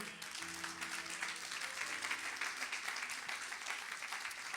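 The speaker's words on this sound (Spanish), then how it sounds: "Dale un aplauso" An evangelical church congregation claps for the Lord during a sermon, producing a continuous, even texture of many hands that sounds somewhat distant and subdued and carries on without a break.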